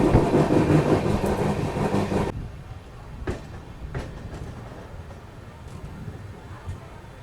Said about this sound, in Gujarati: તો ભાઈ આપણી ટ્રેન આવી ગઈ છે આપા રેલવે સ્ટેશન ઉપર